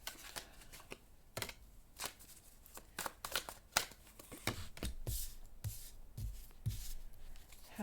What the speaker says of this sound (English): So I will start shuffling.